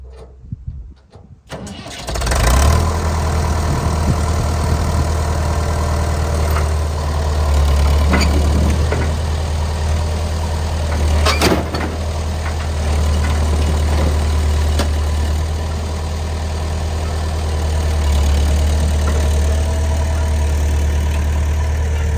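A Dart gasser's engine turns over and catches after a short crank, then settles into a steady, loud, rumbling idle that runs on without a break.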